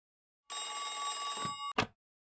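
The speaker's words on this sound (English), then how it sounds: "the phone rang" An old-fashioned telephone bell rings once in a sustained metallic burst of about a second, followed by a short second jangle, loud and alone in an otherwise silent room.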